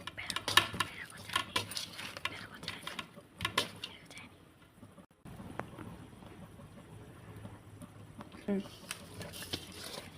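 Fish pieces being mixed with chili powder by hand in a metal bowl for fish curry, with soft irregular scraping and clinking under quiet talk.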